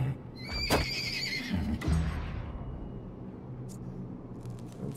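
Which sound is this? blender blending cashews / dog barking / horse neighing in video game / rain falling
horse neighing in video game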